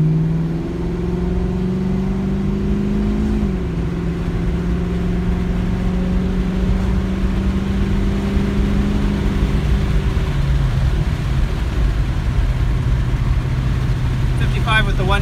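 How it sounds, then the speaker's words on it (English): A Ford Mustang GT V8 with new mufflers and a 4-speed automatic cruises with the windows down, its exhaust a steady, loud low burble and drone heard from inside the car, rising and dropping slightly with throttle through the drive. "I'm going to take it for a spin and see how the exhaust sounds."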